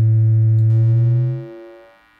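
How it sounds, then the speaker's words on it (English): Surge XT synthesizer's triangle wave oscillator sounds a low sustained note with soft overtones that brightens slightly after a click, then fades out smoothly, heard alone. "We've got triangle."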